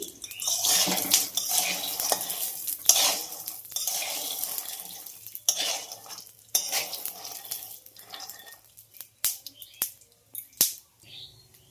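Peanuts being stirred and roasted in a pan, with scraping, rattling and clattering against the metal in uneven bursts, close and fairly loud, growing sparser toward the end.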